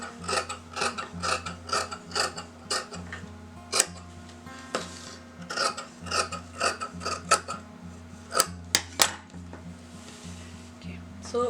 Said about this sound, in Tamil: ஸோ இப்போ இந்த ஸ்லீவ்ஸை கட் பண்ணி எடுத்துக்கலாம்.